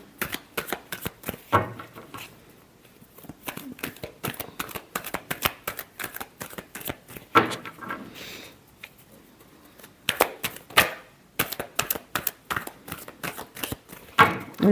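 Tarot cards shuffled by hand in quick, crisp riffling bursts that repeat with short pauses, close and clear, with no one talking.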